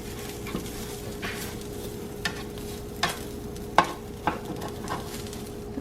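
A metal spatula scrapes and clacks across a hot griddle, pushing Philly cheesesteak meat and cheese together, with soft sizzling underneath and several distinct scraping strokes and taps close by.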